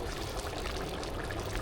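Water being poured into a pot for chicken biryani, a short, close, steady pouring splash with no voices over it.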